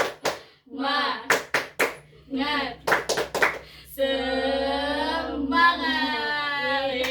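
Sharp hand claps in an uneven rhythmic pattern mixed with voices, followed by a sustained shouted chant from a group.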